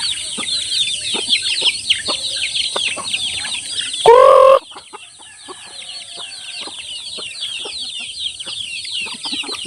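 Chickens and chicks on a farm cluck and cheep continuously at close range, and one loud crow cuts through about midway.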